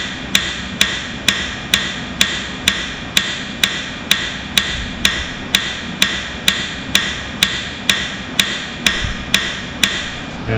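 Steady, evenly spaced metallic hammer blows strike a stuck engine head on an International Super A tractor about twice a second, loud and close, with no talking.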